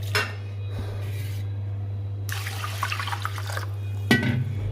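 A tap runs into a pot while rice is washed in a home kitchen, streaming water in bursts with a few clinks and splashes over a steady low hum.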